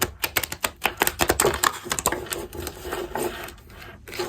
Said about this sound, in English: These are very big cards, so they are quite hard to shuffle.